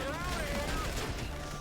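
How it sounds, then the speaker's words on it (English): A Gusenberg Sweeper submachine gun firing in the video game GTA Online, a dense, continuous rattle of rapid shots with a voice over it. "For this one, let's do maybe the Goosenberg Sweeper, yeah?"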